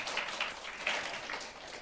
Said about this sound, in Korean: 박수 소리가 진정으로 축복하고 축하하는 게 아니라 시기 질투하는 사람들의 박수 소리였습니다